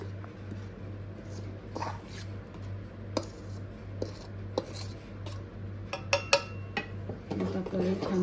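Rice flour stirred by hand into just-boiled water in a pot for modak dough, with clinks and scrapes of a utensil against the pot over a steady low hum, growing busier toward the end.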